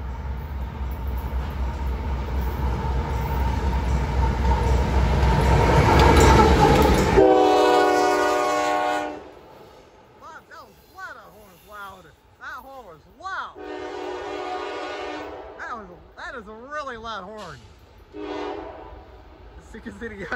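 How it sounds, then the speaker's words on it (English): A CSX freight train rumbles loudly past for several seconds at Washington Grove, Gaithersburg, Maryland, then cuts off; afterward, a voice calls out in short bursts over quieter background. "Finally got a CSX freight train coming. Here comes the CSX train."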